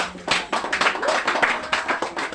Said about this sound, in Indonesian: Saya berikan tepuk tangan.